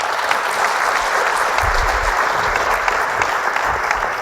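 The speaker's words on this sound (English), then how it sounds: "Let's give Anna Marie, Mike, Gary, and Price a round of applause." An audience at a university educational session on produce claps in sustained, dense applause, steady and fairly loud for the whole stretch without rising or fading.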